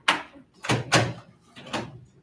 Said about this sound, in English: Somebody must be coming because he's getting ready to close the door.